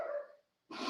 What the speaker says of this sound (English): Now they're going to sit there and bark.